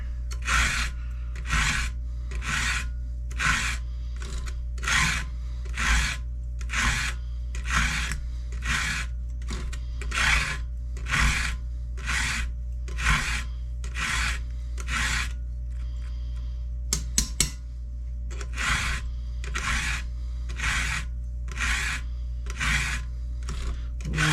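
Steady, rhythmic rasping strokes of a hand file run through a filing guide, repeating about once a second, close and clear over a constant low hum, with a brief pause midway before the strokes resume.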